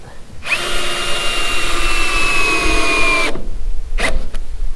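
A power driver runs in one continuous whine lasting about three seconds as screws go into an off-grid solar shower and compost toilet build, then stops, followed by a couple of brief clicks.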